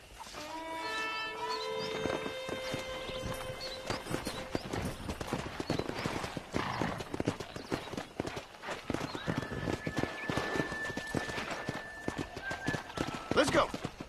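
Rhythmic hoofbeats clop steadily as horses trot along in the video game Red Dead Redemption, with a whinny near the start and faint background sounds throughout.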